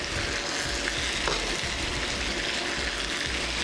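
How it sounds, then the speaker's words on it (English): Roasted poblano peppers frying in oil in a cast iron pan on a stovetop, giving a steady, close hiss of sizzling with faint stirring, continuous and alone for the whole stretch. "add a little bit of oil to your pan and then add the peppers"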